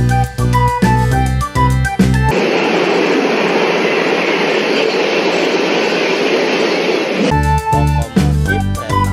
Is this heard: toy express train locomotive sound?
yes